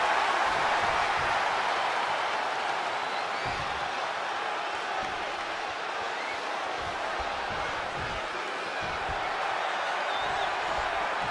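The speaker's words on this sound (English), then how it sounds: "With every move you make, you hear this capacity crowd following you on that journey." Capacity crowd at a WWE wrestling show in Portugal, a steady, distant wash of cheering and murmur filling the arena, with faint thumps from the ring beneath.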